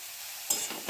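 A pan of chopped green chili, ground cumin and ground pepper gets stirred for a paratha filling. A faint hiss is broken by a sudden scrape and sizzle halfway through, brief and close.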